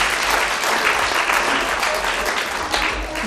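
An audience at a mediation conference gives a speaker a sustained round of dense clapping that stays steady throughout.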